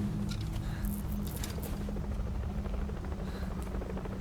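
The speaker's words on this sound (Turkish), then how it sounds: "De helikopter etrafta dolanıyor." Helicopter circling in Metal Gear Solid V: The Phantom Pain, a steady low rotor thrum and buzzing drone holding at an even level throughout, with faint bursts of hiss above it.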